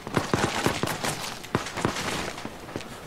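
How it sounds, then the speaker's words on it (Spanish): Rapid bursts of gunfire from a team deathmatch round of the video game Battlefield Hardline, a quick series of sharp shots crackling one after another. "¿Pero de dónde vienen los disparos?"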